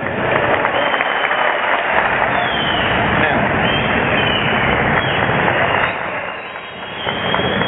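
Sustained, dense applause from a large audience in a hall at a party congress, loud and continuous for several seconds before briefly easing.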